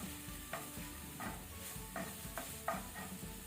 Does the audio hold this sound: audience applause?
no